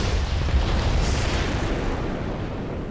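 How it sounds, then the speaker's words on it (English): A nuclear warhead rocket detonates in a Tech Guns mod video game, a loud sustained roaring blast with deep rumble that slowly fades over a few seconds. "see if I can get them all with one blast"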